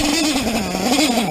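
Dirt bike engine with OBR/RCR mods sputtering as it runs out of fuel, a steady close buzzing note that wavers and dips unevenly rather than revving cleanly.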